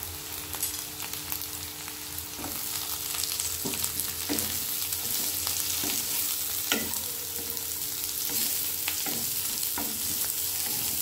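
Bell pepper stir-frying in a pan for white sauce pasta, a steady sizzle with repeated sharp scrapes and knocks of the spatula against the pan, close and alone.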